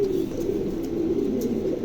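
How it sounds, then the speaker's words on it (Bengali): A pair of pigeons, an opal-coloured female and a black male, coo steadily nearby in a continuous low throaty rolling call. "প্রিয় দর্শক চমৎকার এক জোড়া কবুতর"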